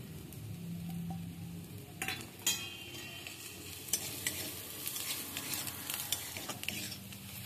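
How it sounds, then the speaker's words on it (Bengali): Jackfruit frying over medium heat with turmeric, chilli, coriander and cumin powders, a soft continuous sizzle punctuated by scraping stirs and clinks of a spatula against the pan, close and quiet, no speech. "এটা একটু ভাজা ভাজা করে নিচ্ছি।"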